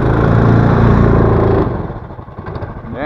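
A Taiga snowmobile with a Lifan 20 engine pulls away in second gear in snow: a loud, close engine roar that drops off partway through, leaving a fainter rough engine sound and a rising whine at the end.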